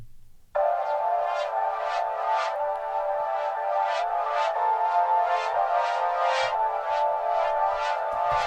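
A reversed, chopped atmospheric sample pitched up two semitones, compressed and EQ'd, swells in abruptly and sustains as a bright, pulsing textural pad with rhythmic reversed swells, heard alone without talk.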